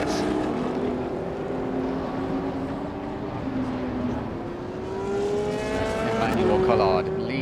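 Classic endurance legends race cars rumble around the circuit in a bunched pack as the race start approaches, a steady loud engine drone with rising pitch near the end, under a commentator's voice.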